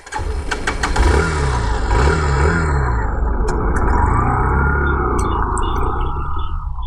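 Hero Glamour 125 BS6 motorcycle, 2022 edition, ridden on the road: a steady single-cylinder engine drone with rising and falling rev swells and wind rush, loud and close throughout.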